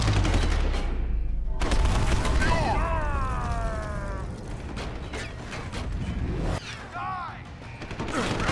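Sustained gunfire from the video game Deus Ex: Human Revolution forms a continuous, loud, noisy wash with mechanical clatter, mixed with voices and tonal sound effects throughout.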